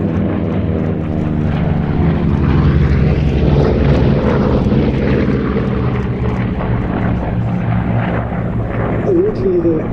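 Corsair propeller aircraft engines rumble and drone loudly and continuously at an aviation show, a heavy low throb with a slowly shifting pitch that stays prominent throughout.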